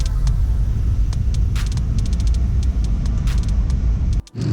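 A Toyota Land Cruiser 100 Series engine idling as it warms up, a loud, close, steady low rumble with faint ticking and clicks on top, dipping briefly near the end.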